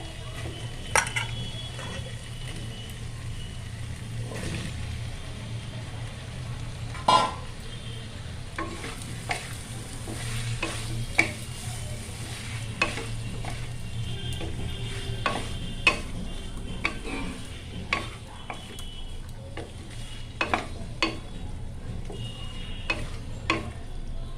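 Potatoes and taro stir-fried in a spice mix for a Bengali prawn-and-taro lunch dish, sizzling steadily in the pan with repeated scraping and clinks of a spatula against the pot throughout.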